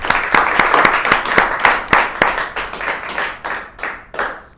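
Small audience clapping for a contestant on a comedy quiz show, sharp distinct claps in an uneven rhythm, fairly loud and close, thinning out and tapering off toward the end.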